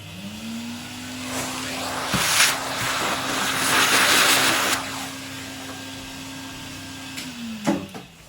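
A household vacuum cleaner hoovers up dust and debris left from drilling holes on a model railway layout, its motor whining up, running steadily for several seconds close by, then winding down, with a few knocks at the end.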